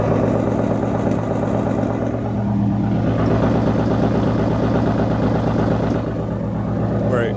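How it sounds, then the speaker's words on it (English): A Ford Mustang engine idles close by with a steady, loud rumble and a faint rapid lifter tick riding on top, heard alone without talk. "A little bit of a lifter tick, but let me put it on the exhaust so you guys can hear it."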